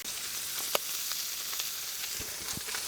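Onions frying on a hot griddle produce a soft, steady sizzle at fairly low volume, with a few faint pops and light utensil taps scattered through, and no voices.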